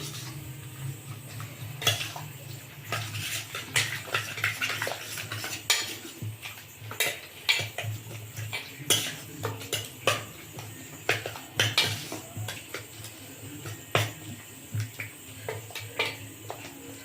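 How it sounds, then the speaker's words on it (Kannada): Chicken popcorn ingredients with an egg being mixed in a bowl: a steady run of spoon clinks and scrapes against the bowl, close and fairly quiet, with irregular sharp taps throughout. "ಇದನ್ನೆಲ್ಲ ಚೆನ್ನಾಗಿ ಮಿಕ್ಸ್ ಮಾಡ್ತಾ ಇದ್ದೀನಿ"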